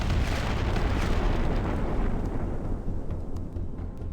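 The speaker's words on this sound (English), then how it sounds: "Those EMPs are doing a lot of shield damage." Heavy, continuous rumbling blasts from EMP weapons striking ship shields in the space survival game Empyrion, a dense low roar that stays loud throughout and eases slightly toward the end.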